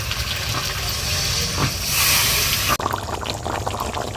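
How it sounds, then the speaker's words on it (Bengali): A small splash of water goes into a simmering Kashmiri aloo dum curry in a pan, raising a rushing hiss of steam that cuts off abruptly, then settles into a low, busy bubbling. "জল দিয়ে দেবো অল্প পরিমাণে"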